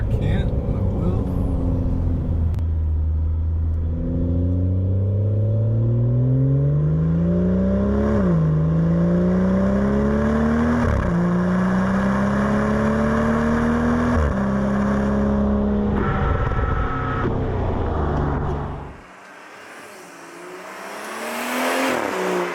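A BMW B5 with a CG Precision DS-1 downpipe and Remus axle-back exhaust accelerates hard through several gears, its engine note climbing and dropping at each shift before cutting off abruptly near the end.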